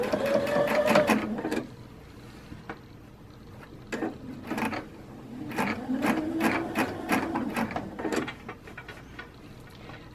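A sewing machine runs basting stitches along the side seam of a men's shirt being taken in, in several short quick bursts of rapid needle chatter separated by pauses, close and fairly loud.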